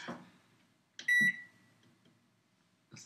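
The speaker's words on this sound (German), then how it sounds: "Mikrowelle nutzen." A microwave oven gives one clear, loud electronic beep, set between soft clicks and brief handling noises in a quiet room.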